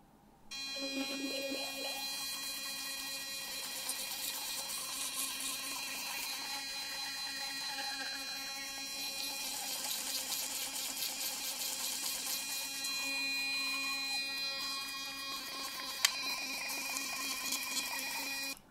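An Oclean X Pro Sonic electric toothbrush hums steadily for the whole stretch as teeth are brushed, a continuous close buzzing with wet scrubbing texture and no talk over it.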